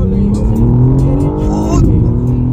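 A BMW M4 G82 engine revs hard while driving at night in Moscow, its loud, close, rising growl climbing through the gears, with voices partly mixed in.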